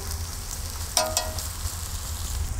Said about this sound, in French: je rajoute le chou qui va cuire gentiment